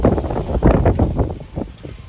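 Strong gusty wind without rain in a garden buffets the microphone in loud, rumbling bursts that rise and fall unevenly.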